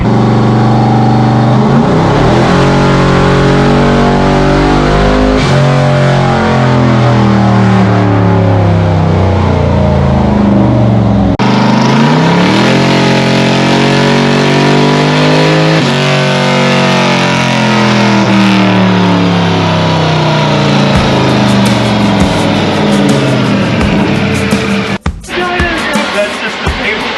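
A twin turbo LS engine on a dyno, loud and close, climbing through long sweeping revs that rise and fall repeatedly, with brief shifts in pitch and a sudden cut near the end.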